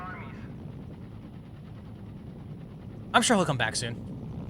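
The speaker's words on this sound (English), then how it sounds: "this is the American Apache helicopter" An American Apache attack helicopter in the PS2 game Mercenaries: Playground of Destruction gives off a steady, muffled rotor drone. Near the end, a voice speaks over it.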